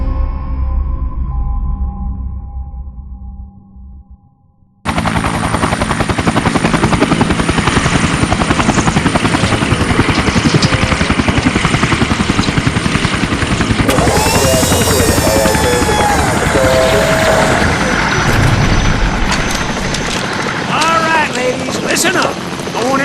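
A helicopter's rotor in the video game ShellShock thunders loudly and steadily after a sudden cut in, its engine roar continuous with chopping beats and some talk faintly underneath.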